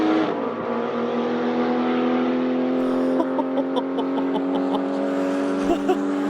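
A Porsche 935 race car's turbocharged engine holds a loud, steady, high-pitched roar close by, with sharp crackles and pops breaking through the drone toward the end.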